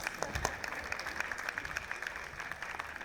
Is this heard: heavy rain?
no